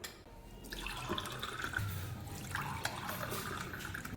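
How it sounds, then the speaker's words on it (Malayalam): Liquid pours steadily into a glass, a soft continuous trickle with small splashes, close and fairly quiet. "നമുക്ക് ഗ്ലാസ്സിലേക്ക് പകർത്താം"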